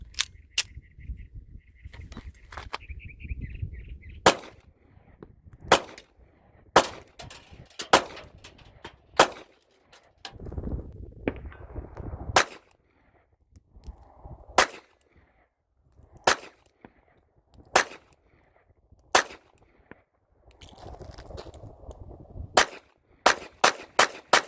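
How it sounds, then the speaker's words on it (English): Ruger LCP MAX .380 pocket pistol fired at a range, sharp loud reports spaced a second or two apart across the whole stretch, some in quick pairs, with faint handling noises between shots. "let's load this up, take some more shots"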